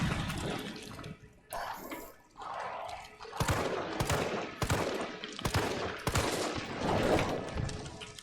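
Gunshots in Resident Evil 3 Remake: a series of sharp, loud shots fired a few at a time, over a wet, rushing background ambience.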